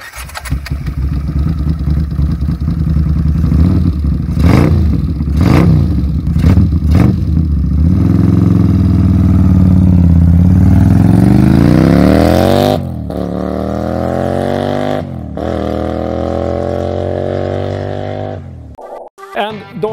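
A custom shed-built Honda CX500 motorcycle engine runs loud and close, revving repeatedly with sharp blips, then climbing in long rising pulls before cutting off near the end.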